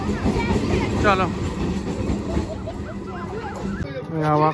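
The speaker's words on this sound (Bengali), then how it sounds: "ভাবি ট্রেন চলে গেল।" A passing train on a railway track, a continuous loud rumble and rattle beneath lively voices of people talking and calling nearby, the noise swelling again near the end.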